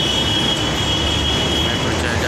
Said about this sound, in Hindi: मेट्रो चल जा भी रही है